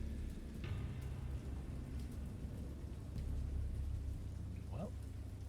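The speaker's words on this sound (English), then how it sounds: "I heard pearls of thunder and other tones which nature utters only in" Thunderstorm ambience in the Dagon visual novel game, a steady wash of heavy rain with a low rumble of thunder underneath, continuous and fairly quiet, with no voice.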